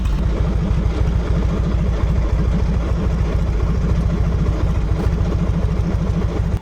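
A 2006 Harley-Davidson Softail Deluxe with a carbureted twin cam engine runs at a loud, close idle, its lumpy potato-potato beat pulsing steadily throughout with no talking.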